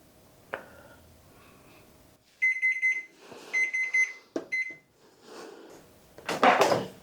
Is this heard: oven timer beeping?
yes